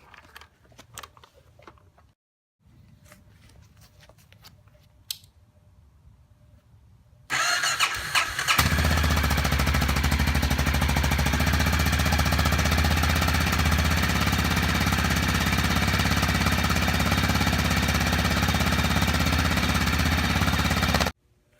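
A 2015 Honda XR650L motorcycle, fitted with a smog pump block-off kit, cranks and fires up, then settles into a loud, steady single-cylinder idle close by, following a few quiet clicks and handling sounds.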